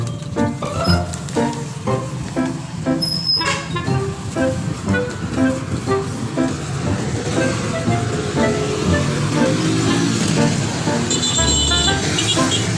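Busy highway traffic in Madrid, Surigao del Sur, with loud, steady road noise from passing vehicles, engine rumble and repeated short horn toots, heard close throughout.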